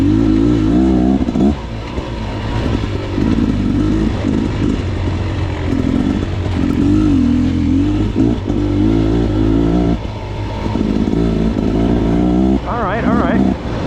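A Beta dirt bike engine revs and pulls hard under a rider on a 2023 demo ride, loud and close throughout with rising and falling throttle, and a voice talks over it now and then.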